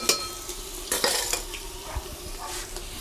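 Garlic ginger paste and dry spices frying in a pan for a dhaba-style black chickpea curry, a close hissing sizzle with spoon scrapes and metallic clinks against the pan, no speech.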